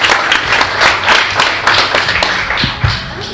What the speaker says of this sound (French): On applaudit Christine très fort.